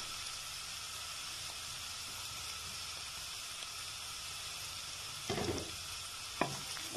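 Coriander stirred into a garlic mushroom curry in a pan, a low steady sizzle throughout with a couple of spoon scrapes near the end.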